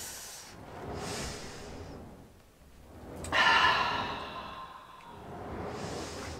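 Slow, audible breathing during a Pilates reformer workout: long airy inhales and exhales rise and fall close to the microphone, with one stronger breathy exhale in the middle.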